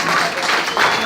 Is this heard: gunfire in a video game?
no